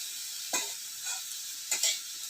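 Potatoes fry in a pan with a faint, steady sizzle, broken by a few brief spatula stirs and scrapes.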